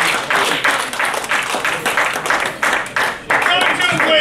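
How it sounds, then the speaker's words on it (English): Loud, close audience applause at a stand-up comedy show, continuous clapping in dense pulsing waves with some crowd noise mixed in. "Round of applause, ladies and gentlemen."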